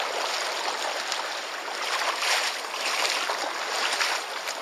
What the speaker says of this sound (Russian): Вот здесь накат выходит на мель и резко поднимается.